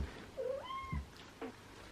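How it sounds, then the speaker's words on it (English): A kitten indoors gives a couple of short, close meows, the first a rising drawn-out cry and the second brief, with quiet pauses between and no talk. "I have a very needy kitten at the minute."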